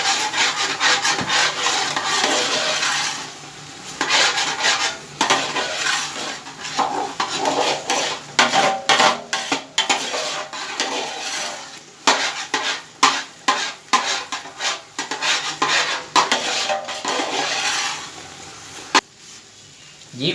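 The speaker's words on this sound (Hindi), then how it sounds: "जी व्यूअर्स, अब ये भुनाई की तरफ जा रहा है।" A spoon scrapes and rubs steadily through carrot gajrela roasting in a pan, giving close, rhythmic stirring and scraping strokes with occasional clinks, continuing for the whole stretch.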